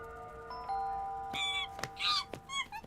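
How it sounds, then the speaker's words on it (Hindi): A doorbell rings indoors with a few clear tonal chimes, fairly quiet and alone, with no one talking. "अरे फोन की नहीं, दरवाजे की घंटी है।"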